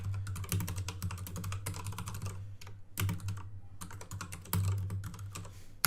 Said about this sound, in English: I'm sure it'll come up if I just type this in